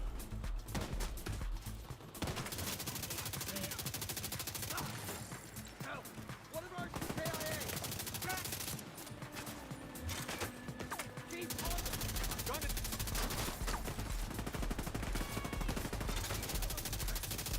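Sustained automatic gunfire in The Division 2 rattles in long dense bursts with only brief lulls, loud and close, mixed with other battle noise and speech in places.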